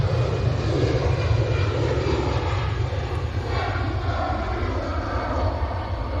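A Qatar Airways airliner on final approach to Manchester Airport, near Stockport, makes a loud, steady engine roar that holds without a break the whole time, with no voices over it.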